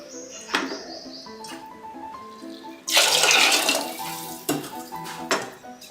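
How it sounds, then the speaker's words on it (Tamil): Two glasses of water pour into a cooking pot of sautéed pumpkin and field-bean curry. There is a loud splashing gush of a few seconds in the middle, with light clinks of metal utensils before and after it. "இப்போது 2 கிளாஸ் தண்ணி ஊற்றிக்கோங்க."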